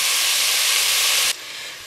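Pork shoulder frying in a pan over high heat gives a loud, steady sizzling hiss close up, which drops abruptly to a quieter sizzle near the end.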